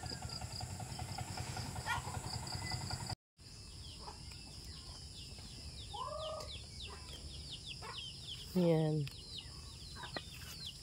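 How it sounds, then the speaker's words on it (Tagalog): Rhode Island chickens roaming a rural Philippine yard cluck in short bursts, with a louder squawk near the end, over a faint backdrop of insects and a brief spoken word. "Lakad na ang aming manok."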